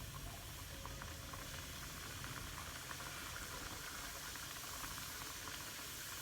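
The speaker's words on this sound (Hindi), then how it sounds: "अब हम इसमें इसको डीप फ्राई करेंगे" Gujiya deep fry in hot ghee, a faint, even hiss and bubbling that holds steady without a break.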